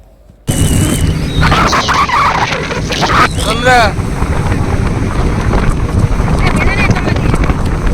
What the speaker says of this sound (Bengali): প্রচুর হাওয়া দিচ্ছে মাঝ সমুদ্রে